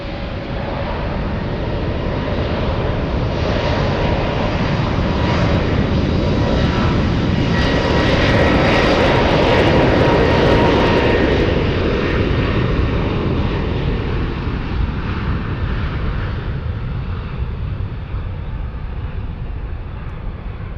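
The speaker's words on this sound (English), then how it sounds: "A321. Delta 785 flying to Atlanta" A Delta Airbus A321 jet airliner takes off from SFO with a loud, continuous engine roar. The roar swells to a peak midway and then slowly fades as the jet climbs away. No voices are heard over it.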